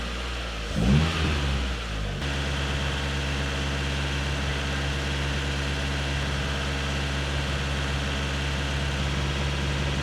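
A drift car's engine revs hard for a moment, then settles into a steady, loud mid-pitched drone that holds unchanged for several seconds.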